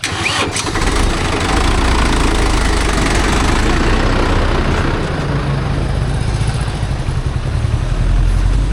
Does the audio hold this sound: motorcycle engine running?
yes